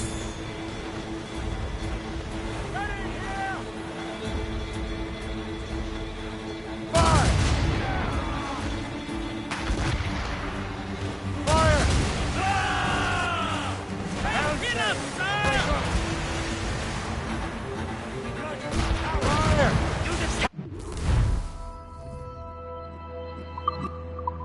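Ship cannons boom during a naval battle in Assassin's Creed Rogue, several heavy blasts amid sea wash and creaking, mixed with game music and shouted crew voices.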